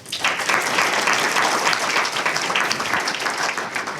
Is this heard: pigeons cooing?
no